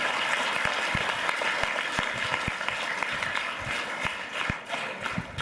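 Loud, sustained applause from a school audience at an official sports-complex event, dense clapping filling the whole stretch with a few sharper claps standing out.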